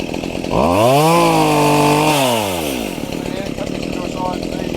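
A chainsaw revs up hard and bites into a diseased wattle tree, holding a steady loud cutting whine for a second or two before easing back to idle. It is close and dominant, with an outdoor rumble underneath.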